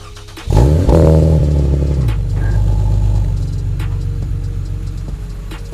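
A lowered Lexus IS with a Seibon front lip pulls out of a driveway: the engine revs up sharply and loudly, then settles into a steady, rumbling drive that fades slightly as the car moves off.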